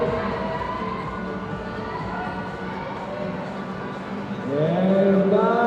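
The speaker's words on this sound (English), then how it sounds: "Big applause for Urban." Crowd at a climbing World Cup lead competition in Valence, a continuous roar of cheering voices with an announcer's amplified voice over it, swelling louder toward the end.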